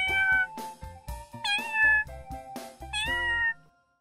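A kitten meows repeatedly, about seven short rising and falling cries in an irregular rhythm, close and clear with no other sounds around it.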